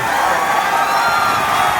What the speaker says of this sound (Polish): No i ludzie dalej krzyczą, że więcej, więcej, więcej.